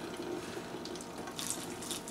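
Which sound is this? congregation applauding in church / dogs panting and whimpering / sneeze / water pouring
water pouring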